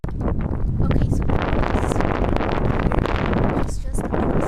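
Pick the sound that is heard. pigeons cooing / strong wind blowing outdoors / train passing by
strong wind blowing outdoors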